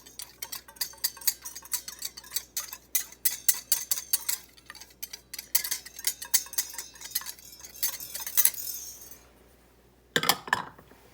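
Cocoa and cornstarch whisked with sugar in a bowl for a chocolate pie filling. A rapid, steady run of light metallic clicks and scrapes builds to a brief fast flurry, pauses, then ends with one final short burst.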